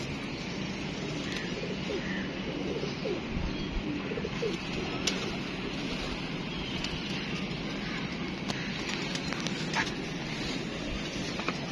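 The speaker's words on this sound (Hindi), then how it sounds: "ये देखें जरा कबूतर है" Pigeons coo softly at a loft where numbered birds are kept, their low calls repeating over an even outdoor hiss, with a few brief sharp clicks and no talking.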